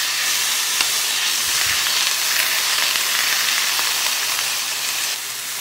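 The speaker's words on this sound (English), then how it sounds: "it's time to start browning our roast" A beef roast browning in a hot pan with onions, giving a steady loud sizzle and hiss that carries on evenly and alone, easing slightly at the very end.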